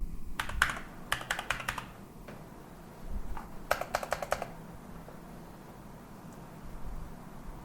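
A word is typed on a computer keyboard in two short bursts of quick clicking keystrokes separated by a pause, close and fairly quiet, then a near-silent stretch with no talking.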